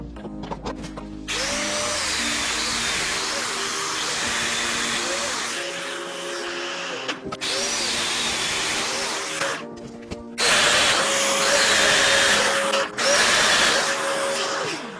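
A Festool Domino joiner plunges mortises into wood, with a loud steady motor whine and three or so cutting runs separated by short gaps while the tool stops and restarts.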